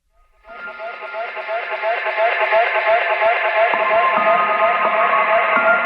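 Reverb effect on a DJ controller, a sustained music passage washed in spacious reverb that swells in and holds steady, heavily echoing and smeared, with no talking.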